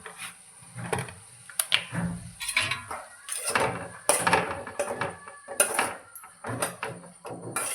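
Turmeric powder and green chillies are stirred into an egg and eggplant curry in a pan, with repeated clattering metal scrapes and knocks of a spoon against the pan, irregular and fairly loud, no voices.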